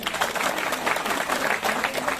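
Crowd applause at a large political party gathering in Poonch, a steady wash of many hands clapping, moderately loud and continuous, with no one speaking over it.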